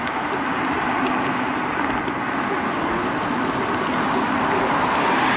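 A YUME X7 electric scooter rides on one motor in turbo mode, second gear, giving a steady, loud roar of wind and road rumble that holds evenly throughout with no talking.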